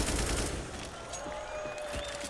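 AK rifle fire in Counter-Strike on the Inferno map during a competitive match, a quick burst of loud shots at the start, followed by dense, continuous game noise with a faint high tone running beneath.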